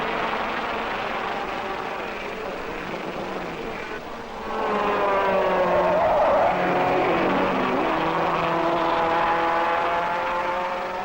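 A 1961 Formula 1 race car at the Monaco Grand Prix passes with a high, rasping engine note that swells and sweeps in pitch as it goes by, heard from a distance over a faint background.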